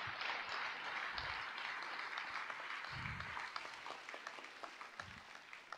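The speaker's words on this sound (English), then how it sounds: "Audience, please give a big round of applause to all our graduates." Sustained audience applause at a graduation ceremony fills the clip with steady dense clapping that thins toward the end into scattered individual claps.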